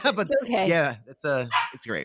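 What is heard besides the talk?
dog barking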